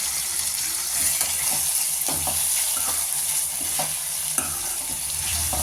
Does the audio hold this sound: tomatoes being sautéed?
yes